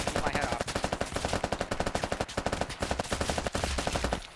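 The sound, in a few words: gunfire in a zombie shooter video game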